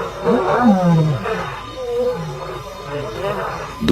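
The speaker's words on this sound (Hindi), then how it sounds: "दूर से आ रही इन दहाड़ों से उत्तेजित होकर एमके प्राइड अपने इलाके की गश्त पर निकल जाता है" Wild lions roaring from a distance near a river, several deep, drawn-out roars rising and falling in sequence, echoing across open ground, with a voice talking over them.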